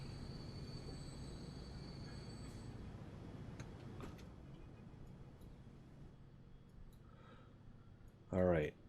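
Trains in the video game Transport Fever 2 give a steady low rumble with scattered faint clicks, ending in a short, louder burst.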